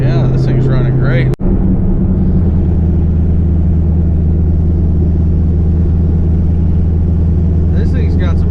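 A Z28 Camaro cruising at highway speed around 2,000 RPM gives a steady low engine drone and road rumble inside the cabin, continuous and even throughout with a brief click near the start.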